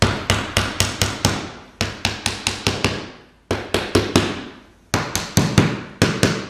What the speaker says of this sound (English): I got my hammer here. I'm just going to tap them in.